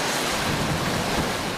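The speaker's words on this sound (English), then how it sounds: "The water here tonight is still flowing fast" Fast-flowing floodwater rushing past a mobile home park at night, a dense, steady roar with wind buffeting the microphone, loud and close throughout.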